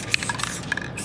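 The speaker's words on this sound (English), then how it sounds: "I would just come back, spray the black" Black paint sprayed onto a metallic epoxy sample board, a short hiss with a couple of brief bursts, close and moderately loud with no talking.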